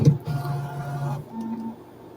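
A Bambu Lab P1S 3D printer starts its calibration routine, its motors giving a steady electronic whir that shifts pitch partway through, close and moderately loud with no talking.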